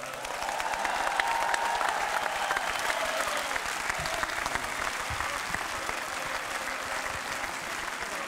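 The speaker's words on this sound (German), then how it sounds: "Auch das, dein Applaus." A large outdoor crowd applauds at the SC Freiburg football club's reception after the DFB-Pokal final, a sustained even roar of clapping heard from some distance with crowd murmur and a brief voice beneath.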